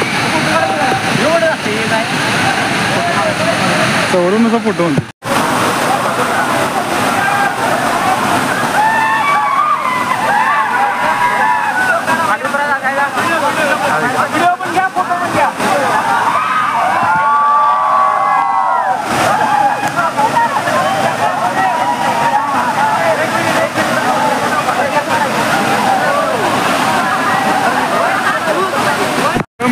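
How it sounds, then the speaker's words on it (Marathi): Barki waterfall in Kolhapur roars loudly and continuously with heavy monsoon flow, a dense steady rush of water filling the scene while someone talks over it throughout. "मित्रांनो बघू शकता धबधबा कसला आहे, खतरनाक"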